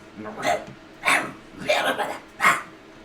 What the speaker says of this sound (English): You hear the same barking, at least Val was mentioning earlier.